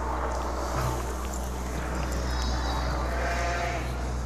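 Ewes and lambs in a lambing jug built from Premier panels, with a few wavering bleats rising over a constant low hum in a barn.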